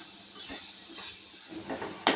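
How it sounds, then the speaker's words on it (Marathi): Semolina and banana roast in a pan with a soft, steady hiss and faint scraping, ending in a sharper clatter, all fairly quiet. "रवा छान भाजून घेतलं, याच्यामध्ये 1 केळं घालते आणि केळं घालून सुद्धा थोडा वेळ"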